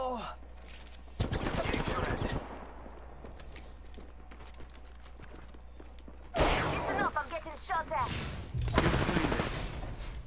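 Automatic gunfire in the video game Apex Legends comes in two loud, rapid bursts, a short one early and a longer, sustained spray later, with a player's voice talking in between.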